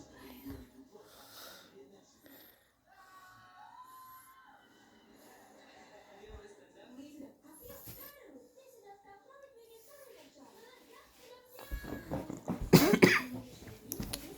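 A person coughs several times near the end, harsh close bursts following quiet stretches of soft speech and movement.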